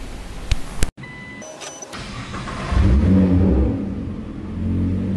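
A Nissan GT-R R35 fitted with an FI race-version exhaust, decat, fires up after a short electric whir and click, then settles into a loud, deep idle rumble.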